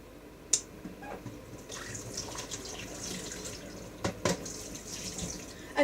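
Water runs from a kitchen tap to rinse a syrup-sticky spoon, a steady broadband rush with a few sharp clinks of metal against the sink.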